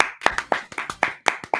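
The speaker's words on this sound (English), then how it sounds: "Why did everyone clap for me on Discord?" A few people clap over an online voice call during a live-streamed show, making a short run of sharp, uneven claps that are close and somewhat compressed, with gaps between them.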